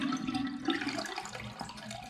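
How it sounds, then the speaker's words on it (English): Water gurgles and rushes out of a Kohler toilet tank as it drains, a close, steady sloshing wash with no speech. "drain the water out of the tank"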